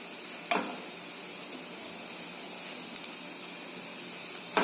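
Chopped ginger and red chillies are stirred in a pan while cooking a dosa roll dish. A soft, steady sizzle runs throughout, with a few faint scrapes from the stirring, and no one speaks.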